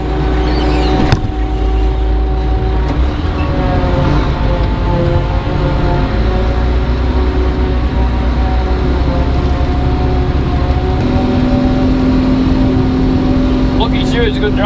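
A classic John Deere tractor engine pulls steadily in first gear while chopping grass in a field, a loud, constant low drone with a faint whine and a slight pitch shift partway through.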